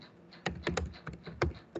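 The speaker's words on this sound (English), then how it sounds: "I'm just typing University of Kerala." Fingers type on a computer keyboard, a quick uneven burst of close, crisp key taps with short pauses between them and no voices.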